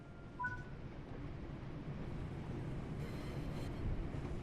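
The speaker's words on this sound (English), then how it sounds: "The train will then coast on level ground and only slow down very gradually." In Train Sim World 6, a train coasts on level track with a low, steady rumble of wheels and running gear, faint and even throughout, broken by a brief high tone near the start.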